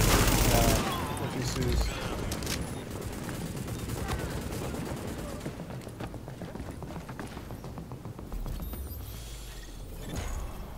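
Gunfire in a shooter video game comes as a dense run of rapid, evenly spaced shots, steady and fairly loud, with a brief voice speaking over it.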